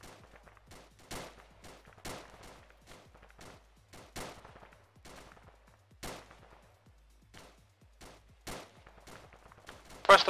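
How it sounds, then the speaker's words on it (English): Rapid gunfire in the Arma video game, a dozen or so sharp shots fired in quick irregular bursts with quiet gaps between them, moderately near. "Keep up the rapid fire, just fire from the hip."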